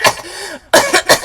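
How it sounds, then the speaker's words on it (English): A voice breaks into sudden harsh coughs, a few sharp bursts after a short pause, close and loud. "before an abrupt, violent fit of coughing halts her speech."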